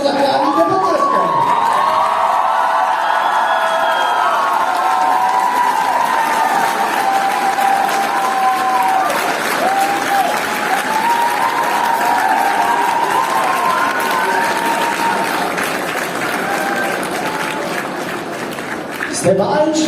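Crowd applause at a school graduation ball during the sash ceremony: loud, sustained clapping for about twenty seconds, mixed with cheering, whoops and voices over the whole stretch.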